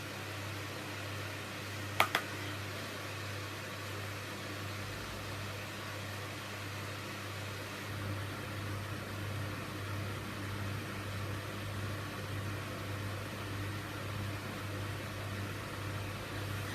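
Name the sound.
small electric fan running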